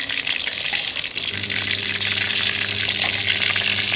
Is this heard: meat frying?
yes